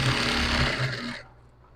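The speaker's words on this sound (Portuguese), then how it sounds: "Eu meço e venho costurando essa faixa aqui embaixo." A sewing machine stitches a strip of cushion fabric for a Lubeck-style backrest cushion, giving a fast steady motor whir close to the listener for about a second before it stops.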